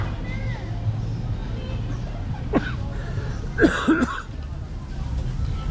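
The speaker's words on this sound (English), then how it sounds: "I can't shake this cough." A few short coughs, one single and then a quick pair, from a lingering cough, over a low steady background hum with no talking, in M Plaza, Naga City, Philippines.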